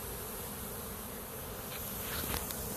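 Honey bees fan their wings at a hive entrance, a dense continuous buzzing hum that stays loud and steady, with a few sharper insect buzzes near the end.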